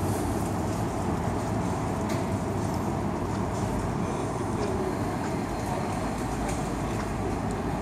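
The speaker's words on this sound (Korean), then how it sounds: "네, 지하철이 지나갑니다." A subway train passes near the Han River at Yeouido, a continuous low, heavy rumble and rattle that fills the whole stretch at moderate distance, with no talk.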